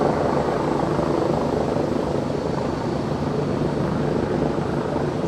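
Steady, loud rotor drone of helicopters, including an Airbus H135 police helicopter, over London during the Queen's Platinum Jubilee flypast in 2022, a constant dense rumble with no clear beat and no talking.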